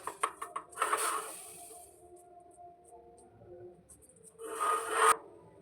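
Thick chhena barfi mixture scraped out of a pan into a tray and spread flat, with bursts of rasping metal-on-metal scraping at the start and end separated by a quieter stretch of faint rubbing.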